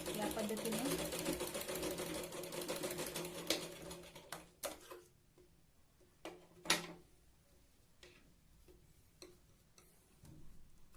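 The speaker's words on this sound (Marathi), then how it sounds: "ही सुई अलगद वरती प्रेस करत हे कपडा इथे खेचला जाणार नाही याची काळजी घेत आपल्याला ही शिलाईन लावायची" A sewing machine runs a fast, steady stitching whir through blouse fabric for a katori blouse, then stops. Scattered clicks and handling knocks follow, with someone speaking in Marathi over part of it.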